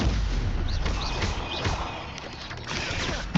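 Incendio fire spell cast during combat in the Hogwarts Legacy video game, dense loud bursts and crackling blasts running continuously amid busy battle noise.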